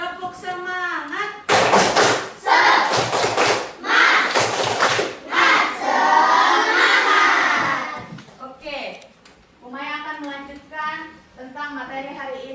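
A school class performs the 'tepuk semangat' rhythmic clap in bursts of loud group clapping and thumps with shouted chanting, while a teacher's voice speaks before and after the claps.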